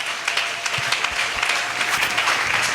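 A congregation at a Sunday church service applauds with steady, dense clapping that fills the whole stretch at an even, lively level.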